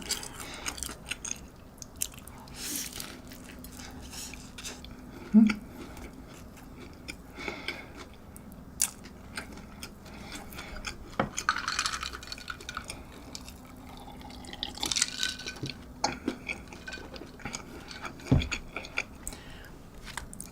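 Close-up chewing and biting of a soft McDonald's burger bun, wet mouth sounds and small crunches coming in irregular bursts, with no talking.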